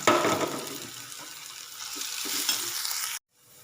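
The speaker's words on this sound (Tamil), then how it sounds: "அதையும் சேர்த்து அதுக்குள்ளே வதக்கிக்கலாம்" Mashed horse gram sautés with ginger and garlic in a pan, a close, loud sizzle with stirring scrapes that fades gradually before cutting off abruptly.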